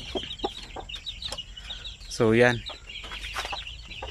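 Native Basilan and Zampen hens cluck repeatedly nearby, with one louder drawn-out call in the middle, while someone speaks briefly.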